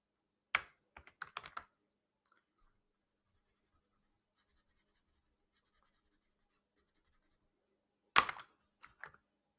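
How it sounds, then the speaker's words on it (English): A crayon scratches across paper, coloring in the background of a mermaid scale pattern. Short, dry strokes come in a cluster at the start and another near the end, with quiet between. "I am coloring in the background of my mermaid scale pattern with the matching color crayon of the marker"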